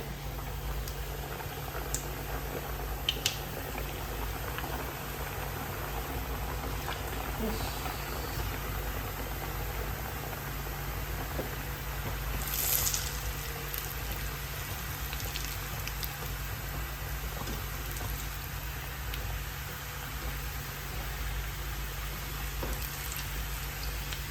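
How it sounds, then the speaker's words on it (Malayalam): Samosas fry in hot oil with a steady, even bubbling and crackling hiss that holds without a break at moderate, close loudness. "നമ്മുടെ ഈ ചൂടായ എണ്ണയിലോട്ടെ ഓരോന്നോരോന്നായിട്ടിട്ട് കൊടുക്കാൻ കൈ സൂക്ഷിക്കണേ"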